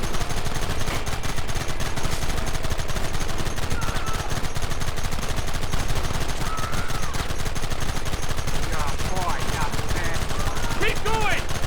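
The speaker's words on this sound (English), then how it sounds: "Gun them down." Gunfire in Red Dead Redemption during a shootout, dense rapid bursts of shots rattling continuously under a busy game soundscape, with brief shouted voices in the background.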